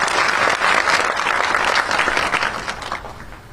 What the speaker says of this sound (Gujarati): એક વાર હજુ મંચ પર બેઠા લોકોનું જોરદાર તાળીથી.